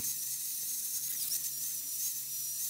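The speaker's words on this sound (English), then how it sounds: "Unfortunately, this drill I'm using here is actually rather worn out." A worn-out drill bores into welded steel brackets cooled with oil, giving a steady high-pitched hissing whine throughout with slight wavering and no talk.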